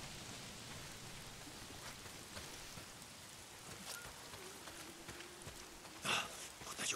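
Steady rain hisses and patters continuously in the game Days Gone, with occasional soft thuds and a brief louder knock near the end.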